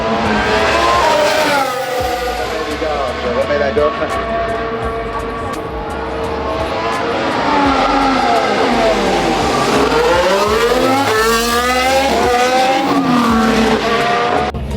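Formula 1 cars screaming past a grandstand during the FP3 practice session: loud, continuous engine howl with rising and falling pitch as cars pass one after another, close and dominating, with no talk.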